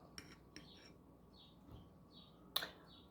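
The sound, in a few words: birds chirping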